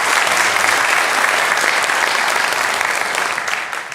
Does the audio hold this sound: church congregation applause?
yes